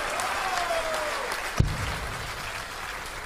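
At a Lakeside World Professional Darts Championship match, a crowd claps and cheers in a steady wash of applause, with one sharp thump partway through and the applause gradually fading.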